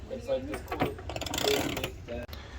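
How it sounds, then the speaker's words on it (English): A bolt being unscrewed with a 7/16 bit while the nut is held during a short bus floor remodel, a whirring, ratcheting drill sound running steadily under talk, close by. "Unscrewing it while I hold the nut in place."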